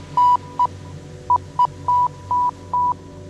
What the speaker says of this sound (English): this radio, which is now beeping Morse code at me